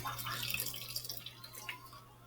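Hot water for homemade Kool-Aid playdough is poured into a bowl, a brief close splashing and trickling that tapers off within a couple of seconds, with no voices.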